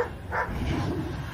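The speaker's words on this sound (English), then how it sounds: "sorry about the dog in the background" A loud dog barks somewhere in the background, a single short muffled bark over a low steady hum.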